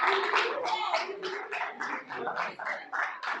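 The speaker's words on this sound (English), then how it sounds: "Please clap for this one." A lecture audience at the University of Johannesburg breaks into steady clapping, a dense run of hand claps lasting several seconds with voices mixed in.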